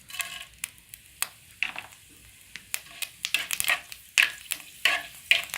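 Panch phoron, cloves and cinnamon fry in hot oil with a crackling, popping sizzle. The sharp bursts grow busier and more frequent as the seeds heat, with a few stirring scrapes, close and loud.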